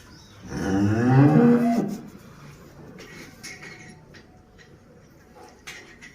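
A large dairy cow on a village farm in Ransih Khurd, offered for sale, lets out one loud, drawn-out moo close by, followed by quieter farmyard background.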